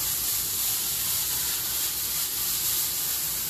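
Steam hisses from vegetables softening in a crowded pan, a steady broadband sizzle held at an even level without talk.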